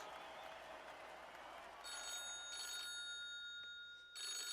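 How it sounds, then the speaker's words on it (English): A telephone rings, a bright electronic tone sounding in two or three short bursts, faint and steady against a low background hum. "The phone rings."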